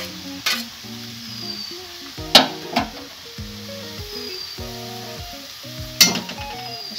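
Cashew paste hits a hot frying pan with a steady sizzle, joined by a few sharp stirring clinks and scrapes of a utensil against the pan, close and fairly loud with no talk.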